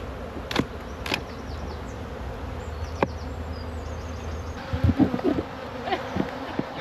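Honey bees buzz steadily around a hive in autumn, a continuous insect drone with a few louder buzzing passes close to the microphone.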